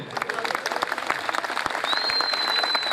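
Spectators at a traditional wrestling match clap in a steady wash of applause, close and loud, with voices mixed in and a high whistle rising near the end.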